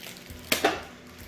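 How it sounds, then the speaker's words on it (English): A knife slicing into GoPro Hero 6 plastic packaging: two quick, sharp cuts in close succession, close up, with no other sound around them. "we're gonna use a knife for this"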